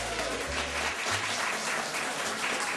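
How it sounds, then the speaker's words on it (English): Crowd applauding at a school lunch celebration awards ceremony, a dense, steady wash of clapping that stays loud and even for the whole stretch. "Now let's give a round of applause to all schools who participated."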